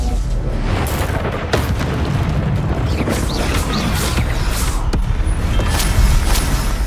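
Repeated heavy booms of Bombarda spell explosions in a Hogwarts Legacy battle arena, loud and dense over a constant wash of combat effects, with sharp bursts scattered through the fight.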